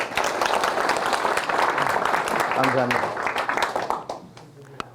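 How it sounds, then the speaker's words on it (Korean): Audience applause at a soybean farming lecture in Korea rolls on steadily for about four seconds and then fades out. Someone speaks briefly over the clapping. "큰 박수로 환영해 주시기 바랍니다"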